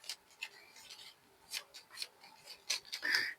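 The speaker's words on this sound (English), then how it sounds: "And these ones get shuffled together." Playing cards from a Marvel Champions card game shuffled by hand, a series of short papery riffles and rubs in quick bursts, close and fairly quiet, with no talking.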